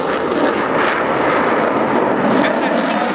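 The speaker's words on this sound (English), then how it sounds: "The one you're about to see is a maneuver that can be performed only by a few planes in the world" An Italian Air Force Eurofighter Typhoon roars past at an air show in Radom, its jet engines a loud, steady, broadband thunder that swells slightly as it passes, with no voices over it.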